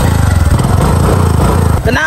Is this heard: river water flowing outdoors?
no